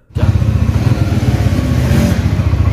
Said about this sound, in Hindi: दूसरे हाथ से बाइक चला रहा हूँ